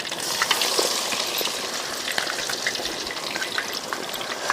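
Pieces of quail kebab sizzle and spit steadily in hot oil, a close, continuous hissing crackle with scattered pops and no speech.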